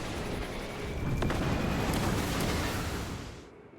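Cannon strike explosions rumble in the video game Space Marine, a dense sustained roar of blasts and debris at full loudness that fades away in the final half second.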